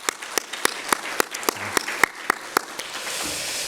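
A church congregation at a Sunday worship service claps, with distinct sharp individual claps in an uneven rhythm that swell into denser applause toward the end.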